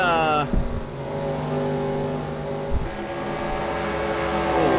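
Indy 500 race cars roar past on the track, engine tones sweeping in pitch as they pass one after another, with a commentator talking over the loud, continuous engine noise.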